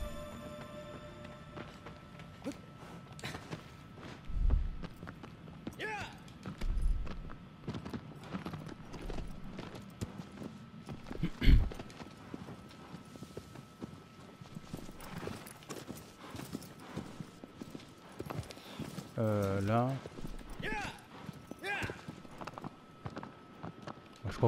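Hoofbeats of a horse walking and trotting in Shadow of the Colossus remake on PS4 Pro, irregular clip-clop thuds at close range amid quiet game ambience, with occasional brief voice sounds and a short tonal game effect.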